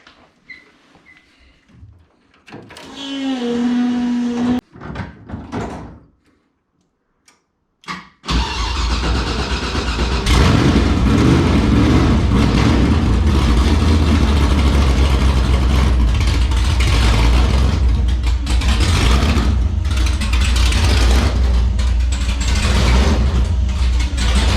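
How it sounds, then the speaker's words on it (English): LS3 V8 engine swapped into a Nissan S13 with no idle air control, starting with a few sputters and catches, then running loud and close with the throttle blipped to keep it idling and revving. "There's no idle air control, so I have to use the throttle a little bit."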